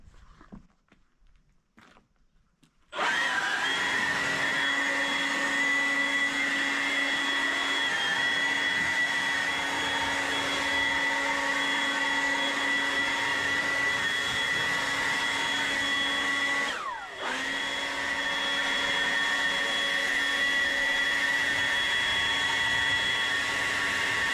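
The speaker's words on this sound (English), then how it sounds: "nowadays we have wonderful tools like this battery blower that will do the job in next to no time." Battery-powered blower clearing dirt from a Cyprus limestone wall starts up after a few quiet seconds, then holds a loud, steady whooshing whine with a brief dip midway before resuming.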